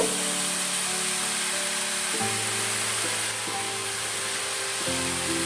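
Bread crumbs and powdered milk stirred in a hot pan for a stovetop caramel bread cake give off a steady, close sizzle that continues throughout, with a soft tonal music bed running underneath.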